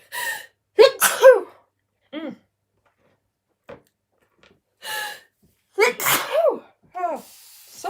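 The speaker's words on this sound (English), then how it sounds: "Got the sneezes." A person sneezes repeatedly in short bursts with sharp gasps and breathy snorts between them, close and loud in a quiet room.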